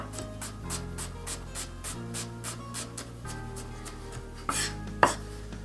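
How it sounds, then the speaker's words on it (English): A knife chops onions finely on a cutting board with a steady, rapid run of crisp, evenly spaced taps, ending in a couple of louder knocks. "Onions, fine chop as well."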